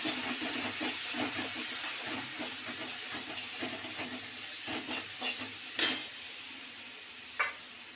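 A grated medium onion sizzles and hisses in a pan, a soft continuous frying sound with light stirring scrapes and two brief sharp clinks near the end, no voice.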